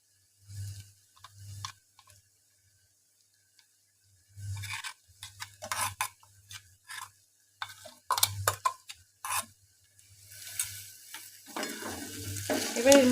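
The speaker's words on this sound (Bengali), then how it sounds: "খুব বেশি ফ্রাই করব না, খুব হালকা করে ফ্রাই করে নেব" Sliced onions fry lightly in a pan while a ground poppy seed paste is stirred in. Spoon scrapes come in irregular bursts over a soft sizzle that grows louder and crackles toward the end, with no talking.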